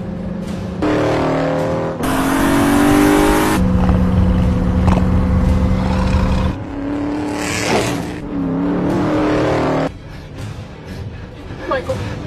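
A car engine drones steadily through a tense night drive, loud and close, with shifting whirs and revving under worried talk between passengers.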